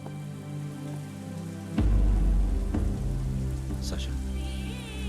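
Steady rain falls on a surface in a Telugu comedy film scene. It hisses evenly throughout and swells louder after a sharp thud, and a faint tone comes in near the end.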